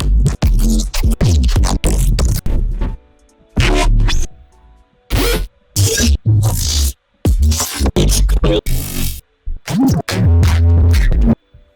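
Experimental bass sounds from a sample pack, a series of loud, choppy, glitchy bursts of varying length separated by short silences, heavily processed and distorted, with no talking.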